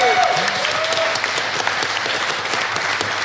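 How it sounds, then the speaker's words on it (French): Audience at a live podcast recording in Rennes applauds the technical crew, with dense, loud clapping sustained throughout and a few faint voices and a short cheer near the start. "On peut applaudir l'équipe technique qui est quand même sur le coup là"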